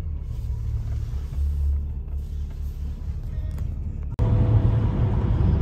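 A BMW 135i driving, with a low cabin rumble that grows sharply louder near the end as it accelerates, heard from inside the car.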